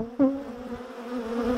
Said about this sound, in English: The bees are quite agitated, I've got a lot of them flying around me.